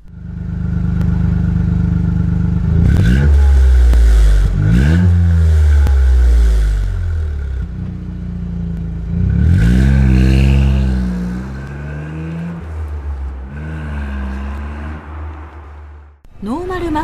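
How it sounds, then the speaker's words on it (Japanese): Toyota GR Yaris fitted with a Ganador aftermarket muffler at low speed, giving a deep, loud exhaust note that climbs through repeated revs and gear changes, recorded close with some clatter near the end. "ガナドールマフラー低速。"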